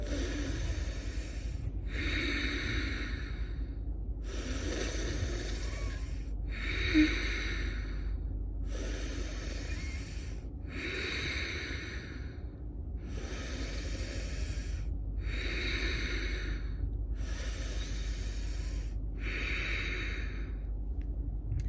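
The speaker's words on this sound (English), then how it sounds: "you exhale through your nose and creating that oceanic breath" Ujjayi pranayama breathing through the nose during a bandhas practice: slow, steady oceanic breaths, close and alone, each a long airy rush repeating in an even rhythm of about nine cycles.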